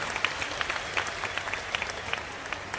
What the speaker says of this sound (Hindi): एक बार जोरदार ताली बजाकर जो धन्यवाद